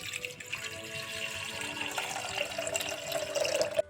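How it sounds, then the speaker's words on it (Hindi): Two glasses of water pour into a pressure cooker on a stove, a faint continuous splashing stream that rises slightly in pitch as the pot fills, with no talk. "इसमें मैंने 2 ग्लास पानी ऐड किया है"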